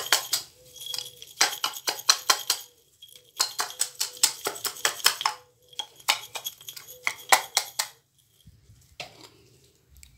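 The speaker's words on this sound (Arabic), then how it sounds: "غادي نسد هاد القنينه هذه بحال ما هكذا، وغادي نخلط" A capped bottle of homemade herbal hair oil is shaken to mix it, giving close, bright rattling clinks in quick rhythmic bursts. The bursts are separated by brief silences and fade out near the end.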